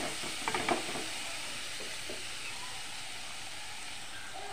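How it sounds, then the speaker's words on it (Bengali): Chili powder and spices stir-fry in a hot pan with a steady, close sizzling hiss, broken by a few brief scrapes of stirring near the start. "ভালোভাবে কষে নেব।"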